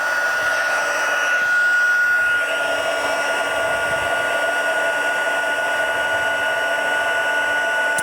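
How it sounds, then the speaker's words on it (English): A heat gun blows steadily to melt embossing powder on a stamped card, a loud, even, close whirring roar that holds for the whole stretch with no talking. "turn on your heat gun."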